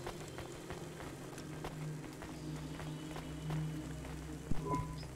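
Steady rain patters softly in a video game restaurant scene, a faint, even hiss with scattered drops and light ticks throughout and no clear voices.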